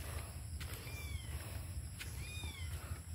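A small newborn kitten mewing a few times, thin high cries over a low rumbling background, fairly faint and with no one speaking.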